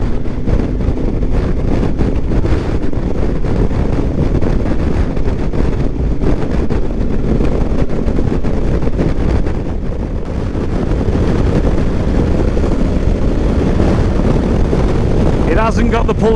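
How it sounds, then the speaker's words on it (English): Strong wind roars across the microphone while riding a hire bike outdoors, a loud, constant low rumble and buffeting that holds throughout and covers a voice speaking underneath. "Even with this wind, and it is pretty windy today"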